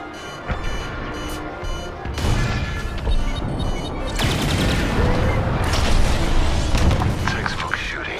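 Blaster fire in the Star Wars Squadrons space combat game, loud bursts of shots and booming impacts that build in intensity, with a brief voice heard amid the action.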